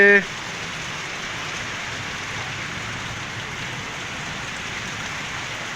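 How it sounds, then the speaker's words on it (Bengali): Steady rain falls during a sudden storm, a continuous broadband hiss of drops on surfaces heard close and fairly loud, holding even for the whole stretch, with a brief louder burst at the very start. "আর এদিকে বৃষ্টি চালু হয়ে গেছে"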